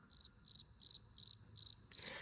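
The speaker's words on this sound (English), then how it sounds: "crickets." Crickets chirping alone at night: six evenly spaced, shrill trilled bursts in a steady rhythm, clear and fairly close.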